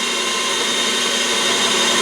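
A drill gently boring through metal from the back side to remove a burr while building a small steam engine, a loud, steady, close whine that runs unbroken throughout with no talk.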